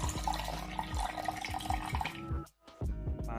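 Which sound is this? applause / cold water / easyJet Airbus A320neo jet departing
cold water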